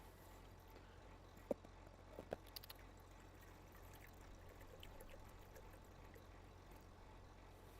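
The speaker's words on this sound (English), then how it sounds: "Fresh water out of a bottle." Fresh bottled water poured into a cat's bowl at a sink, a faint, close trickle over low background hum with a few small clinks.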